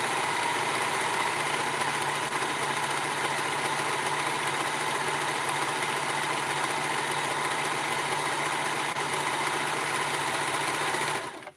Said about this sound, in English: So I am going to go do the serger.